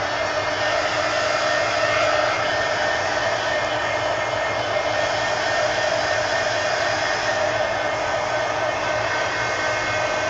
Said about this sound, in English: So heat gun.